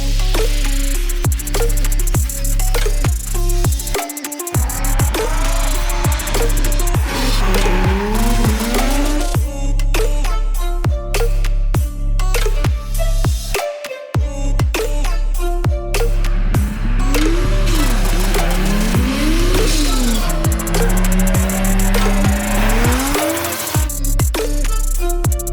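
A VAZ 2105 Lada drifts hard, its engine revving up and down in repeated surges while tires squeal and skid through slides, loud and close with brief breaks in the noise.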